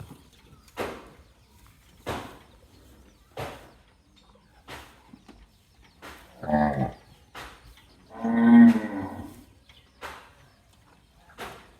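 Cattle moo twice, loud and close, among sharp rhythmic knocks spaced about a second apart.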